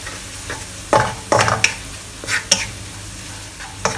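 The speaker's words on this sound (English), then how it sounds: "So we just fry this for another 10, 15, 20 seconds." Shallots frying in oil for a Taiwanese oyster mee sua, a soft sizzle broken by several sharp clinks and scrapes of a utensil against the wok, close and irregular.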